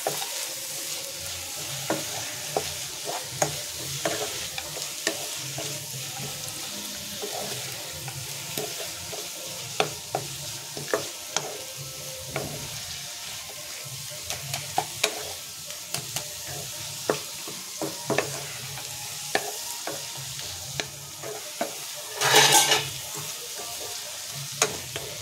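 Greens fry in a pan while soaked poppy seed paste is stirred through, a steady sizzle broken by repeated scraping strokes of a spoon and one brief louder hiss near the end, with no talk.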